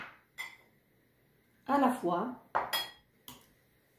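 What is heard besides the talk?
ingredients being put into a blender for white pizza sauce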